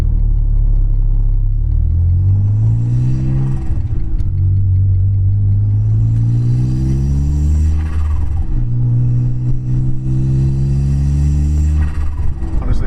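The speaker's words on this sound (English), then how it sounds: "The intake sound is really loud." A Smart Roadster engine with a modified intake drones loudly and close, rising and falling in pitch as it accelerates and eases off repeatedly, with a deep intake roar and rumble.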